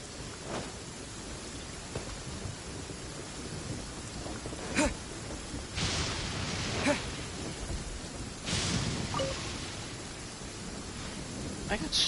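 Steady rain and rolling thunder in the Genshin Impact game world, a constant wash of rainfall with several louder thunder swells, while a person talks over it.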